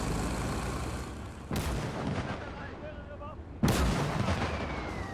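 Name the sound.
flak gun firing in Gates of Hell video game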